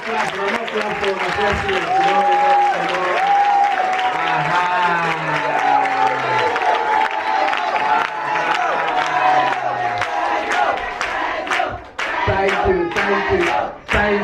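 Sustained applause and cheering from a large crowd at a women's leadership gathering in Sierra Leone, welcoming the president, with loud clapping, shouts and voices filling the whole stretch and a few claps near the end.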